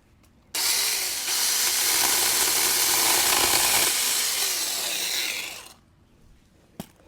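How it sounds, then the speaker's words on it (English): A small SeeSii mini chainsaw cuts through a thick hydrangea sucker branch on a paniculata hydrangea. A close, steady buzzing cut runs for about five seconds, then stops, followed by a faint single click. "I'm going to use my little SeeSii mini chainsaw to cut that off"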